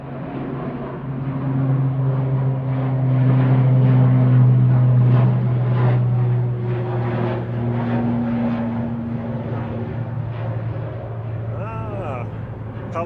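An Aer Lingus Regional ATR 72-600 turboprop makes a steady propeller drone with strong low tones that swells and then fades. Someone speaks over the engine noise throughout.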